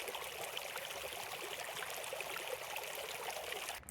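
River water at a hot spring in Mexico's Copper Canyon flows and trickles steadily at dusk, a continuous close rushing wash with no voices.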